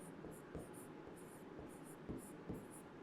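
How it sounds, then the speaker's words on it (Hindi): Pen or marker writing by hand on a board during a maths lecture on time and work, a steady scratchy stroking with a few louder taps, close and alone with no talk. "यहाँ पास ए वर्क लिख देते हैं"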